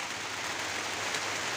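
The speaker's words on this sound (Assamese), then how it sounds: "বৰষুণ পুৰা ধাৰাসাৰ" Heavy rain pours steadily in a dense, unbroken hiss, near and fairly loud, with no voices and no letup across the moment.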